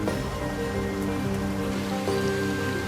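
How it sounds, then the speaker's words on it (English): Steady rain falls on rock and stone during a damp outdoor trek, a constant dense hiss of drops spread evenly through the clip with no voices. "The rain blurred everything"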